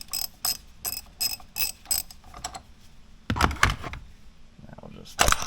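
A ratchet turns a 5/8 socket on a steering wheel puller fitted to a 1997-2006 Jeep Wrangler TJ, giving close bursts of quick clicking strokes with pauses between, louder toward the end.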